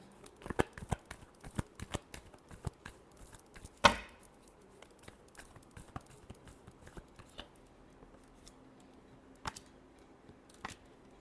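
Tarot cards shuffled by hand in a quiet room, giving a run of soft, close riffling flicks and taps, with one sharper snap partway through and sparse clicks near the end.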